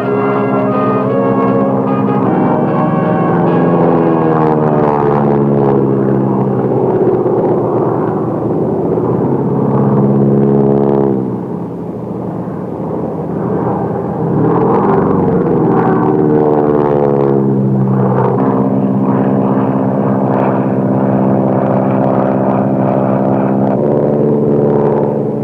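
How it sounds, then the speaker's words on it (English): An N3N biplane flies and rolls, its engine a loud, continuous drone whose pitch rises and falls through the manoeuvres, with a brief dip in level midway. "N3N is undoubtedly the queen of biplanes and is a joy to fly."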